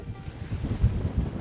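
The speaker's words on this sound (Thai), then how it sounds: "ลมมันแรง" Strong wind blows across the desert at a camp outside Riyadh, a brief, low rumbling gust that buffets the microphone. A voice is faintly present in the background.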